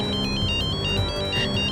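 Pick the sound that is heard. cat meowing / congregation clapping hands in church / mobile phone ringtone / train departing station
mobile phone ringtone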